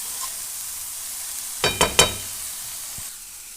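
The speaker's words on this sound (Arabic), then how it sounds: "دابا غادي نشحر هذا صافي تيتشحر مزيان" Shrimp sautéing in a pan for a rice-and-fish dish give off a steady soft sizzle, broken by a few quick stirring scrapes near the middle; no one speaks.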